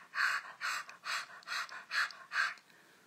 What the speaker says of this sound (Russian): Когда мы делаем это упражнение, мы рот открываем, и у нас там оно дышит само.